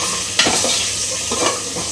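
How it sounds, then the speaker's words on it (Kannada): Green chillies fry in hot oil with cloves in a pan, a steady close sizzle broken by a few scraping stirs of a spoon, no voices. "ಕೇಳಿಸ್ತಾ ಇದೆಯಲ್ಲ, ಇವಾಗ ಅದು ಫ್ರೈ ಆಗಿದೆ"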